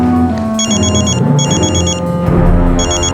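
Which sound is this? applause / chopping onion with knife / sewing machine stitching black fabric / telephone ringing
telephone ringing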